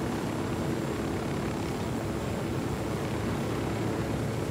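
A helicopter in Ghost Recon Wildlands gives off a continuous, steady rotor and engine rumble, even and fairly loud throughout, with no speech.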